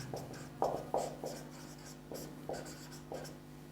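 Chalk or marker writes on a classroom board in a series of quick scratchy strokes with irregular pauses, steady and close, over a low constant background hum.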